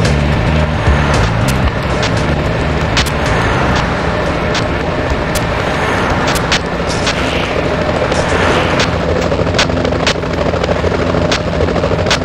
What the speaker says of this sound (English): These choppers.